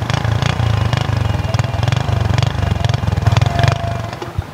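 Honda 70 motorcycle engine idling up close, a loud, steady single-cylinder putter with fast even pulses and a slight sway in level, no talk over it.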